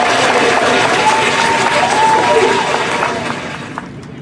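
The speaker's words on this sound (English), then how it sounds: "Let's give her a round of applause, please." Audience clapping at a Pine Hills Safe Neighborhood Association community gathering in Orlando, Florida, a steady dense burst of applause that thins out toward the end, with a faint murmur underneath.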